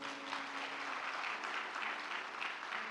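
An audience at a live religious discourse gathering claps in a dense, steady ovation of many hands, sustained and fairly even throughout without any speech.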